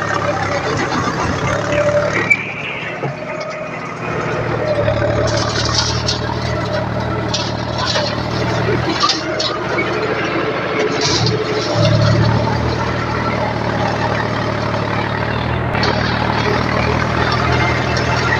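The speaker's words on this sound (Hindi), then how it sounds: "और भाई अभी लो के दूसरे गियर में ट्रैक्टर चालू है" A John Deere 5050D tractor running in low second gear, a loud continuous diesel rumble with some scraping and clanking over the steady engine drone, close by, no talking.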